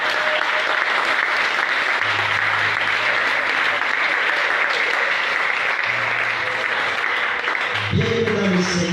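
A church congregation applauds for Jesus during a sermon, sustained dense clapping from many hands filling the room steadily, with a voice speaking faintly underneath and a brief hum near the end.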